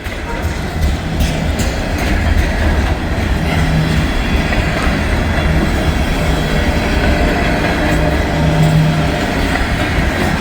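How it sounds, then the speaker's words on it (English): A freight train with a Norfolk and Western heritage locomotive rumbles past close by, a steady loud roar of rolling cars and wheel clatter with faint squeals throughout, no voices. "Well, that was the Norfolk and Western Heritage Unit."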